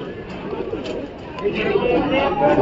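Pigeons coo and rustle nearby in a loft, a soft continuous burble of bird sounds with faint background voices.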